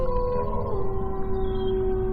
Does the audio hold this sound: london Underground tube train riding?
no